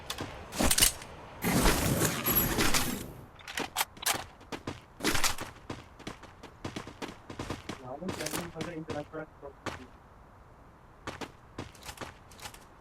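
Rapid bursts of machine gun fire from a battle royale video game, loud and sharp early on, then scattered shots and clatter continuing more faintly.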